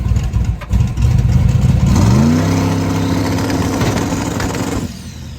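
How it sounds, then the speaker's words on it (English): A big block twin turbo Chevrolet Nova engine warms up in a driveway, a loud rough idle rising into a sustained rev that climbs and holds before dropping off near the end. "When I got back to the house, Billy was out in the driveway, warming up his Nova"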